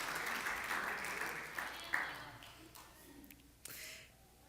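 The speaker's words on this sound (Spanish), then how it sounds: "¿Cuántos pueden dar un aplauso al Señor?" A church congregation applauds together, a dense sustained patter of clapping that swells and then gradually thins out, with a few sharper claps standing out near the end.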